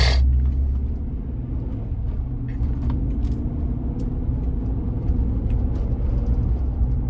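A 2014 Chevrolet Silverado truck drives along at speed, its steady low engine rumble and road noise filling the cab continuously without obvious breaks, while the transmission shifts smoothly under acceleration.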